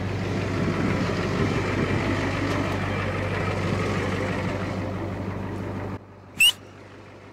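A Ford 6.9 IDI turbo diesel truck engine runs at a steady, loud idle nearby, a low continuous rumble that cuts off abruptly near the end, followed by a brief chirp.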